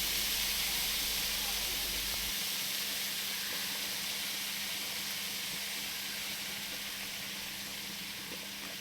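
Cut cauliflower frying in hot oil in a pan, giving a steady, even hiss of sizzling that carries on without a break.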